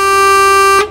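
Steady electric horn of a Mercedes-Benz Tourismo bus in a driving simulation game, one sustained loud tone with bright harmonics held for most of a second, then cut off abruptly.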